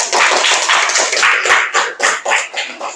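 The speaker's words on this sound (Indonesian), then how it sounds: "Tepuk tangan." A group of people clap their hands after a student group's presentation, a loud, close burst of sharp, fairly rhythmic claps that thins out toward the end.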